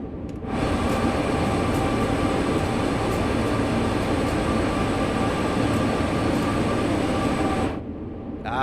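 A steady, loud rumble of a freight train rolling along in the game Train Sim World 2, continuous and unchanging for several seconds, with no voices.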